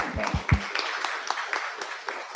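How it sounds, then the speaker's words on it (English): A small seminar audience claps briefly for a speaker: a few close, heavy claps at first, then thinner scattered clapping fading out over a couple of seconds. "Give applause to Dr. Thomas."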